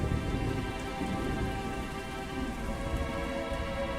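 Heavy rain pours on a hillside with cows being led down, a dense continuous hiss and patter at steady loudness with faint low rumbling beneath and no voices.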